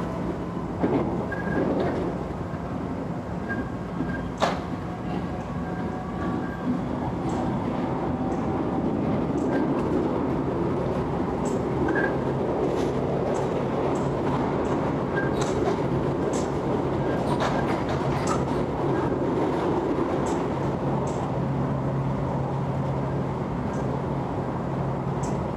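A Série 9500 commuter train runs between Prefeito Saladino and Ipiranga stations, heard from inside the car as a steady low rumble and hum of wheels on rails with faint scattered clicks and occasional squeaks throughout.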